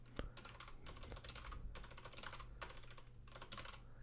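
Fast typing on a computer keyboard while entering a mkdir command to make a Windows 95 directory, with bursts of close, crisp key clicks separated by short pauses and no talk.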